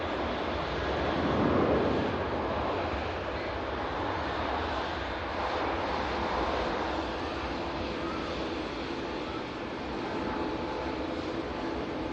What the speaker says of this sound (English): BA shuttle services on the departure roll